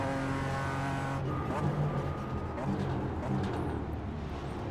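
A BMW M4 G82 GT4 Evo race car in iRacing drones steadily at the Belle Isle track, with the engine note shifting as it races, while a voice talks over it.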